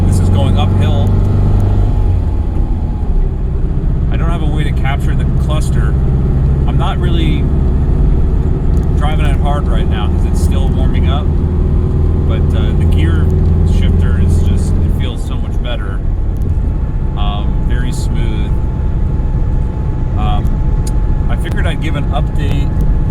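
A 1966 Porsche 912 pulls uphill in second gear with a steady, loud low engine drone, while someone talks over it throughout.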